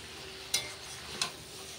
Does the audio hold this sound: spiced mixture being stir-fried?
yes